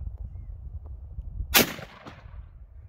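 One sharp, booming shot from a .45-70 Pedersoli Sharps buffalo rifle cracks out outdoors, followed by a short echo rolling back, with quiet wind and rustling before and after.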